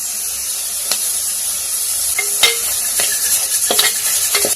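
Tomatoes fry in a pan with turmeric and salt for a fish curry, a steady hiss running under scattered scrapes and clinks as a utensil stirs them, loud and close, with no talk.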